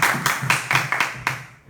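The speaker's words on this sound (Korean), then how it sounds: "일단 박수 한번 치고 시작하겠습니다" A lecture-hall audience at a regional anatomy class gives a short burst of clapping, about seven sharp, fairly even claps over under two seconds, close and clear, fading quickly at the end.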